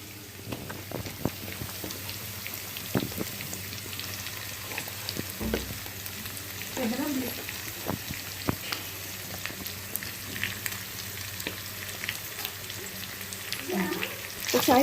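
Turmeric and chilli marinated jella fish pieces frying in a pan for Andhra fish pulusu, a steady low sizzle with scattered pops and spatula scrapes, a voice briefly audible over it.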